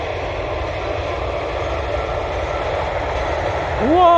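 A train rumbles past with a steady, loud, broadband roar that holds throughout and swells slightly near the end, where a voice briefly cuts in.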